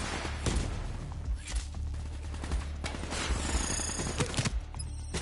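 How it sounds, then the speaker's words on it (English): Firefly incendiary nanobot swarm from Call of Duty Black Ops 3, a dense, busy burst of crackling, mechanical clicking and rattling gunfire-like bursts, loud and continuous with sharp transients throughout. "Firefly, a swarm of incendiary nanobots."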